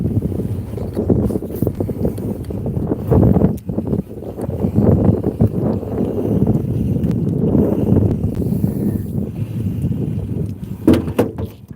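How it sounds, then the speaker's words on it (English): A boat pushed along by an electric 5 horsepower trolling motor on a lake, its steady running drone mixed with heavy wind buffeting the microphone throughout, close and fairly loud with no one talking. "so you can see how fast my electric 5 horsepower motor is"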